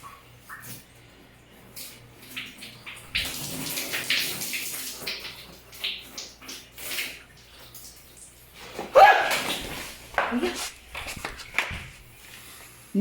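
Water pours and splashes into a bathtub in irregular bursts, louder around the middle and again later, with shuffling and faint movement in between.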